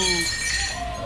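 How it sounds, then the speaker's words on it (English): A freshly baked pizza from Crozet Pizza is dropped straight out of the oven and crashes to the floor, a sharp clattering impact with bright ringing, metallic-sounding overtones that decay over about a second in a restaurant kitchen. "What you're hearing is the sound of Chef Tony's pizza crashing to the floor"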